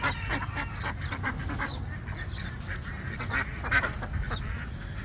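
Several farm ducks quacking close by, with overlapping nasal calls in quick irregular bursts over low outdoor background noise.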